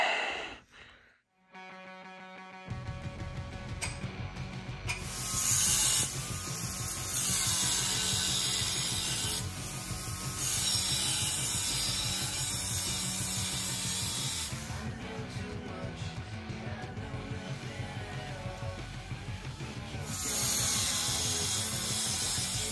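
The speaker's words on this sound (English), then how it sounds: "Don't mind the sound of the welder. I just don't feel like turning it off." A running welder hums steadily during a short tail mud motor steering handle build, a continuous loud buzz with hissing bursts and clanking shop noise layered over it, no speech.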